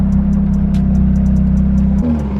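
A drift car's engine drones loud and close with a steady low rumble during a quick acceleration pull, then shifts pitch briefly near the end as the throttle changes.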